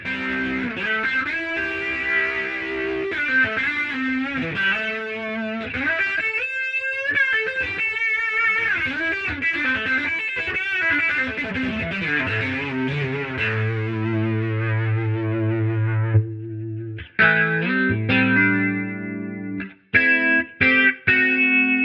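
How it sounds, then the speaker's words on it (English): A sustained organ playing chords through a Line 6 Helix rotary (Leslie) speaker emulation with the drive turned up: swirling, warbling, gritty overdrive distortion, loud and continuous, briefly cutting out near the end. "by pushing that drive up, we get a lot more distortion"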